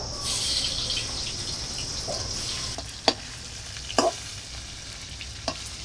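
Golden fish pieces frying in a pan until red-brown, a soft continuous hiss of oil with a few sharp clicks and taps of a utensil.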